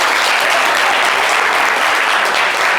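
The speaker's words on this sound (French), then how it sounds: "On va applaudir." Studio audience on a French-language TV variety show bursting into loud, dense applause, a close, continuous wash of clapping that holds steady for a few seconds without any talk.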